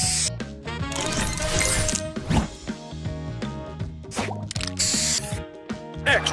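In the match-three mobile game Match Masters, a spray booster triggers with a burst of bright, glittery electronic effects. A hissing spray sound mixes with clicks, whooshes and chiming tones in a busy, layered flurry lasting several seconds.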